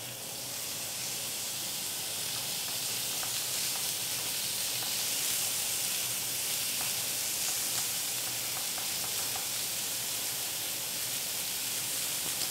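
Beef fillet sears in a preheated hot pan, producing a loud, steady, unbroken sizzle and hiss that continues throughout, with no voices over it.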